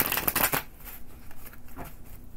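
Tarot cards are shuffled in a quick riffling burst lasting about half a second, followed by softer rustling and handling, close and clear with no speech.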